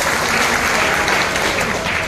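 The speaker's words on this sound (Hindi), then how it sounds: "इनके लिए भी एक बार जोरदार ताली बजाइए।" Audience at a public gathering giving loud, vigorous applause, a thick continuous clatter of many hands clapping at once, close and steady without a break.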